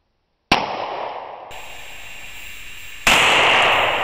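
A Llama Mini Max .45 pistol fires a Winchester hollow point at a ketchup bottle downrange: one sharp, loud report followed by a sustained ringing tail, then a second louder burst of noise near the end, with no talking.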